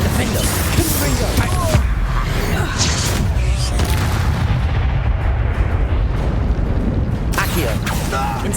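Loud spell blasts and explosive booms from Hogwarts Legacy combat crowd together over a dense rumbling din, with voices heard among the impacts.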